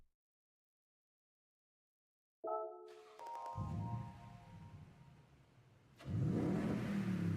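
A Toyota with a 5.8 liter engine in Gran Turismo 7 starts after a silence, idles with a brief rumble, then revs up hard near the end, loud and close with no talk.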